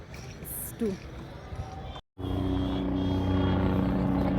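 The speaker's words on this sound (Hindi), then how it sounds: "हमारे ऊपर से आ रहा है एक हेलीकॉप्टर" A helicopter passes overhead at the Kumbh fair in Prayagraj, its low steady rotor drone growing after a brief cut, heard under someone speaking and outdoor crowd noise.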